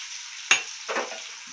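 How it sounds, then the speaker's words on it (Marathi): Egg masala frying in oil in a pan on a low gas flame, heard as a short sizzle with a sharp stir at the start and a second softer burst of frying, fairly quiet and without talk. "बघू शकता तेलात कसं परतायचं"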